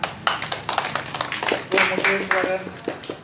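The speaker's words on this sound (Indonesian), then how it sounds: "tepuk tangan" Scattered audience clapping during an Indonesian panel discussion on the regional election law, sharp distinct claps at an uneven rhythm, with talking and a brief tonal sound mixed in.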